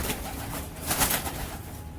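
Pigeons gifted as fancy birds coo softly in a short, low murmuring burst, fairly close with a hissy background.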